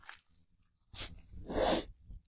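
A short breathy burst, then a sharp, noisy sneeze in a quiet room, followed by a faint snuffle.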